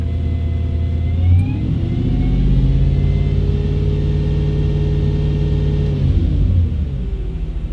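A cold Audi B7 RS4 V8 idles and warms up in a garage in below-zero weather. A loud, close, deep engine rumble holds steady, swelling slightly as the revs lift early on and settling back near the end.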